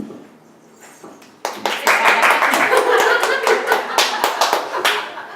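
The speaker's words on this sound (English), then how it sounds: "Thank you for this applause." Audience applause at a talk on matriarchal societies, starting after a quiet moment and swelling into dense, loud clapping that continues steadily to the end.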